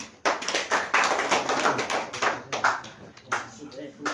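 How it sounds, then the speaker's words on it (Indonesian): Members of a student organization's law commissariat assembly meeting in Kalabahi clap their hands together, a loose, uneven patter of nearby claps that rises and falls over a few seconds while voices murmur beneath. "Tepuk tangan dong."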